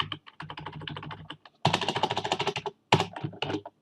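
Rapid keystrokes on a computer keyboard as a file name is typed, in three bursts separated by short pauses, close and clear with no talking.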